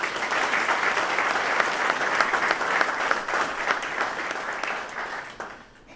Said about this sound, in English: So you need to give my members also a hearty round of applause.